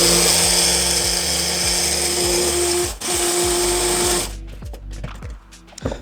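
A blender whizzes soup ingredients with salt, a loud, steady motor drone with a brief dip midway, then stops abruptly, leaving quieter kitchen clatter and rustling.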